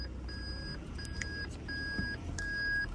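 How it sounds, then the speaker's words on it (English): Loud, steady electronic warning beeps repeat in an even rhythm over a low engine hum inside a Toyota Land Cruiser 300 Series with a 3.3-liter diesel engine. "very loud beeping"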